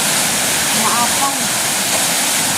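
Strong floodwater rushes in a steady, loud wash that fills the whole clip, with brief faint voices or tones over the roar.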